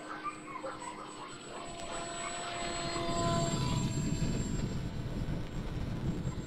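A radio-controlled model aircraft drones through the air outdoors on a slightly breezy day, a steady whining motor tone that swells and grows closer partway through, with no talking.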